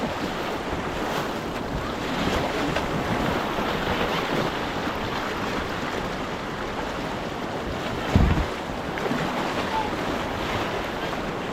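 A kayak heading into whitewater rapids sits in a continuous roar of rushing water and wind buffeting the microphone, with a brief thump partway through.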